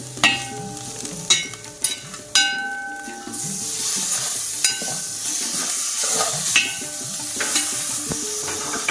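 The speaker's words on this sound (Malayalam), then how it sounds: "ഇതൊന്ന് ചൂടായി വരുമ്പോൾ ഇതിലേക്ക് നമുക്ക് നമ്മുടെ തക്കാളി ചേർക്കാം." Tomatoes go into hot oil with chili powder and turmeric: a few sharp spoon clatters and stirring scrapes, then a loud, continuous close sizzle, with faint background music underneath.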